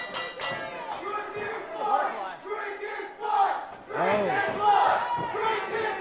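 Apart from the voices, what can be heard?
wrestling crowd shouting and cheering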